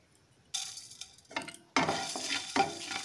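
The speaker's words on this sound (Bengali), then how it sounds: "ধনে দেওয়ার পরও বেশ একটু নাড়াচাড়া করে দিচ্ছি" Dry spices (coriander, dried red chilli and black pepper) being stirred in a dry pan, with quick rattling scrapes and clatters coming in short bursts after a quiet start.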